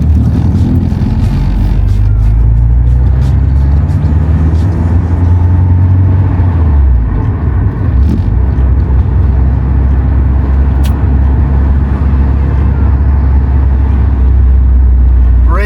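Loud, close car engine rumbling steadily as the vehicle drives, with low revving that rises and falls, then settles into a constant drone.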